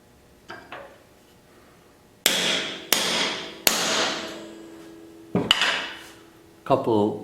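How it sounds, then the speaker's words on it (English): Metal hammer blows setting a rivet on a radio chassis ring out: two light taps, then several sharp, loud strikes with ringing decay, spaced about a second apart, close by. "Couple of gentler cracks with the hammer, and then one final hard blow."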